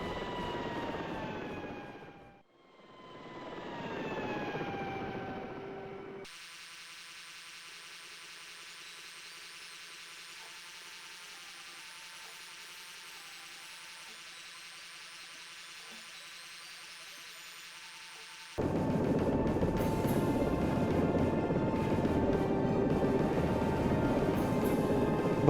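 An aircraft in a pilot simulation game drones through its landing, a steady engine tone that dips, shifts to a quieter cockpit hum, then swells back to a louder, fuller roar, with no voices.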